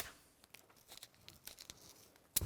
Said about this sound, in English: So just get a strip of your masking tape